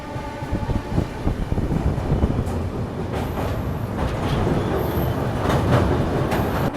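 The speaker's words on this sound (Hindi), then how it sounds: "भरूच स्टेशन क्रॉस करने के तुरंत बाद हमारी ट्रेन नर्मदा नदी को क्रॉस कर रही है" The Mumbai-Ahmedabad Double-Decker Express rumbles across the old iron Narmada river bridge near Bharuch, heard from aboard as a loud continuous roar of wheels with rhythmic clatter and occasional metallic squeals.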